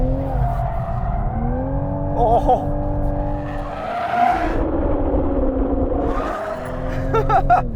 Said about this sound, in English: So they're big Brembo brakes, and they do a great job of hauling this car up.